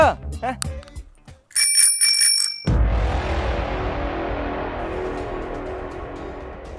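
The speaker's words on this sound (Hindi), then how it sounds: "एक बार घंटी की आवाज तो सुन लो" A bicycle bell rings with a bright metallic trill after brief talk, then a louder clattering rush and a long fading noise follow.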